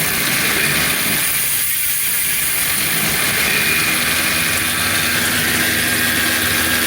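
Modified 26-inch EuroBike G4 e-bike motor under throttle, a steady broadband whine and rushing hiss with a brief dip near the start before the tone holds constant and fairly loud.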